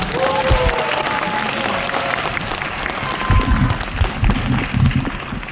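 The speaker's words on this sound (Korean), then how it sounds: "박수 한번 주세요" A concert audience at a women's choir's regular performance in Geumcheon applauds a guest singer. Clapping runs throughout with bursts of cheering and crowd noise, and voices rise briefly under the applause.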